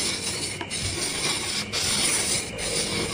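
A dull machete blade is worked across a coarse sharpening stone, giving a steady close-up gritty rasp that keeps going with only brief pauses.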